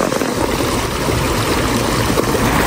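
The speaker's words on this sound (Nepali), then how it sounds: "कति राम्रो खोला छ हेर्नु न यहाँनिर शीतल" A small river flows through a cool, shaded spot in nature, rushing loud and close with a dense, continuous churning wash and no pauses.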